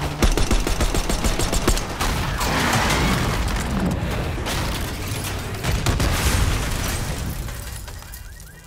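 Heavy gunfire and booming impacts in a Call of Duty campaign mission, loud rapid bursts and blasts through most of the stretch, fading toward the end.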